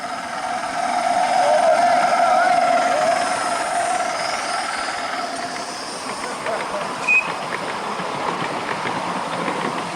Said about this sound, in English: Andy Walton with Erin, hauling quite heavy trains during the day.